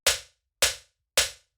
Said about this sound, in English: So I layered it with this punch layer,